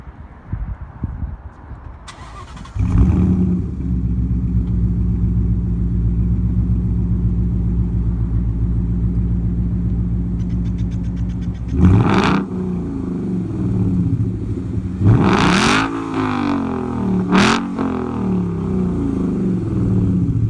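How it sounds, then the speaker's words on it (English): A 2017 Ford Mustang GT with a muffler delete cranks and fires into a loud, steady idle. Several sharp throttle blips follow near the end, each rising to a raspy roar before falling back to idle. "Let me go ahead and start it up."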